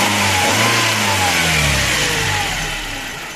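A Mercedes 124 E220 car engine revs up loud and close, its pitch rising and holding, then easing off slightly toward the end with no talking over it.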